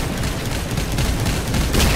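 Dense, continuous gunfire and booming blasts from vehicle combat in the game Crossout during a clan war, a steady loud barrage with no clear gaps over two seconds.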